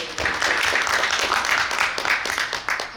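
A conference audience at a 2019 media and information literacy event applauds a speaker, a steady, dense wash of many hands clapping at once that holds the whole time, with no speech over it.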